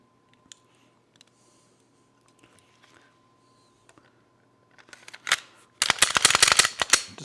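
A pistol fitted with XS tritium night sights is put back together: after near silence with faint isolated ticks, a cluster of sharp metallic clicks and clacks builds up close by, loudest over the final couple of seconds.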